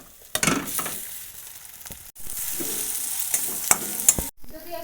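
Boiled, mashed potatoes go into a hot pan and get stirred, with a steady sizzle, clanking spoon strikes and scraping, nearby with no talk and a sudden pause near the end.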